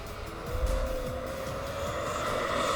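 A radio-controlled model F-16 jet spools up for takeoff with a steady, loud turbine whine and a rising roar, plus low rumble bursts as it accelerates, heard continuously at close range.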